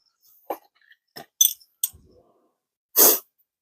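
A few short, sharp sniffs and breathy snorts close to the microphone, separated by silence, ending with a longer nasal sniffle.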